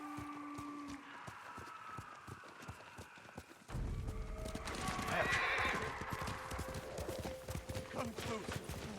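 A horse in the Ghost of Tsushima video game trots with steady clip-clop hooves, then whinnies loudly as the sound swells, with faint speech alongside.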